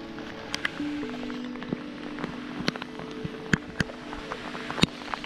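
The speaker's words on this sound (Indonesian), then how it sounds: "Dan masih hujan." Rain falls steadily on an open, slippery mountain trail in Pacet, Mojokerto, East Java, a soft continuous patter broken by several sharp nearby drips and taps, with a faint low hum underneath.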